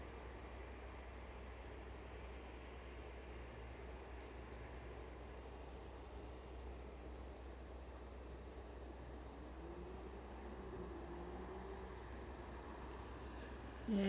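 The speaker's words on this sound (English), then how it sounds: "Sounds like we've got another chopper inbound as well." A helicopter inbound to Aberdeen airport, heard as a steady, faint, distant rotor and engine drone that holds evenly throughout, with no talk.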